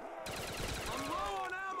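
Machine gun fire in a Custom Zombies video game, a quick rattling burst of close shots under a tonal whine and game sounds.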